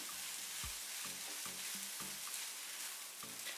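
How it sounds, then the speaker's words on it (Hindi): Beaten egg cooks with vegetables in a frying pan for a chicken club sandwich filling, a soft continuous sizzle broken by repeated low knocks of a spoon or spatula against the pan. "अंडे को सब्जियों के साथ अच्छे तरीके से पका लेंगे।"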